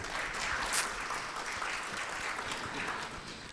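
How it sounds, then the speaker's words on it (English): A room of attendees at an Islamic finance center launch gives a sustained round of applause, a dense, even clapping that holds for the whole stretch without talk. "Let's give a big applause to everyone"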